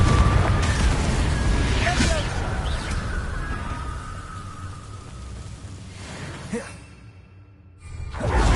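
Confringo blasting curse cast in Hogwarts Legacy, with booming bursts and whooshes over a dense, rumbling game soundscape, the strongest blasts near the start and again around the midpoint.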